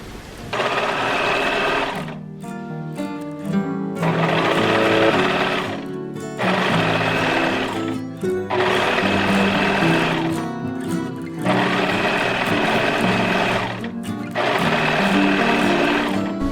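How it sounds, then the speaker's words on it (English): A sewing machine stitches the side seam of a turtleneck neckline in loud, close, rapid bursts of whirring, about six runs of roughly two seconds each, separated by brief pauses, with no voices. "I'm literally just going to sew along the side seam right here."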